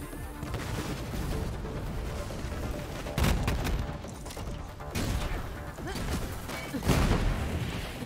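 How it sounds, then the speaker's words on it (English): Enemy gunfire in a video game: sustained loud bursts of shots with heavy impacts and mechanical clatter, peaking in several sharp volleys. "He can shoot at both of us independently."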